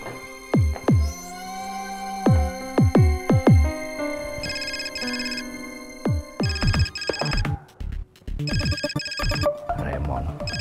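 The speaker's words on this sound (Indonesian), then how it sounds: "pagi-pagi gini ada telepon ya?" A telephone rings with an electronic melodic ringtone: bright plucked notes come first, then repeated buzzing ring bursts with short pauses, loud and close, with no talking.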